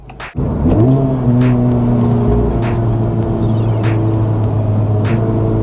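Honda Civic Type R FL5 fitted with an AWE exhaust drives at a steady cruise on a highway, its engine droning loudly and evenly from inside the car after a brief dip at the start, with a buzzy tone and no talking.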